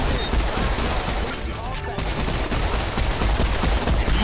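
Dense, continuous gunfire and rapid automatic bursts from enemies in the first-person shooter Serious Sam 4, loud and relentless throughout with crashing impacts and battle noise layered underneath.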